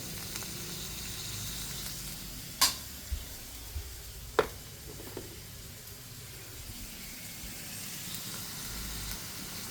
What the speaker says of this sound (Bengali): মিষ্টি কুমড়াটা দিয়ে দিচ্ছি। এখন আমি কষিয়ে নেব।